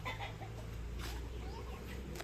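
Rhode Island Red hens cluck softly in a farm setting, with short, scattered calls over a steady low background hum, fairly faint and distant.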